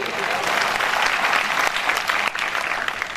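Enthusiastic audience clapping at a motivational speech in Marathi, a dense, sustained round of applause filling the room for a few seconds.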